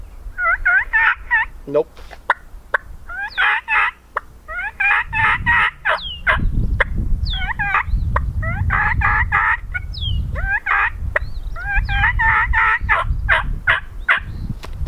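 A mouth call imitates a fall turkey kee-kee run: repeated high, whistled kee notes with raspy yelps mixed in. A low rumble joins partway through, and a single short word is spoken.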